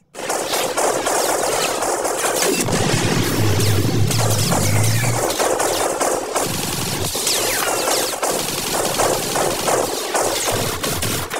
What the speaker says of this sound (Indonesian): Terjadi aksi tembak-menembak antara Emilian dan Kruger CS.